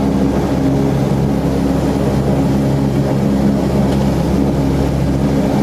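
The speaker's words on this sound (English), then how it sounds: "We're just about to take off to fly to Hargeisa in this cool plane." A small plane sits on the ground about to take off for Hargeisa, its engine giving a steady, loud, droning hum with constant low tones throughout, no speech heard.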